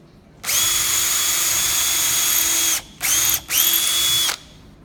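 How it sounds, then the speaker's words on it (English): Power drill boring pilot holes into lumber for screwing boards together: one long loud steady whine, then two short bursts separated by brief pauses, close up and alone. "I'm gonna drill a hole."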